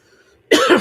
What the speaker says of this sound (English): I got a really bad cough.